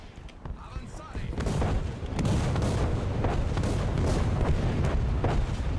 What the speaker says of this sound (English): I feel like there's another artillery strike